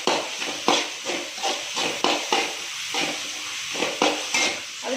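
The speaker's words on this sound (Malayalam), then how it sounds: "ഈ കാപ്സിക്കത്തിന് ഒന്ന് പച്ചമണം മാറുന്ന വരെ നമുക്കൊന്ന് ഇളക്കി കൊടുക്കാം." Capsicum is stirred in a hot frying pan for egg fried rice, with about nine quick, rhythmic scraping strokes over a constant loud sizzle.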